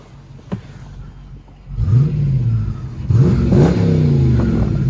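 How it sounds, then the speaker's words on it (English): A 2022 Dodge Challenger R/T T/A engine revs hard, rumbling low then climbing in two throaty bursts of exhaust, loud and close. "Perfect exhaust note for a summer tour."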